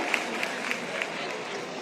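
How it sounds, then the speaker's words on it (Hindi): An audience at a university career counselling event applauds in a brief, even wash of many hands clapping together, steady and moderately loud. "जोरदार तालियां इसका स्वागत और अभिनंदन"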